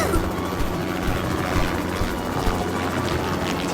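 A helicopter in an animated dinosaur battle, its steady low rotor thrum and engine roar filling the scene loudly and continuously, without any talk over it.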